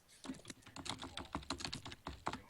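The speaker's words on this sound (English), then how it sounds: "Oh, I hear typing." Rapid, uneven clicking of keys on a computer keyboard, close and fairly quiet, with short pauses between bursts of typing.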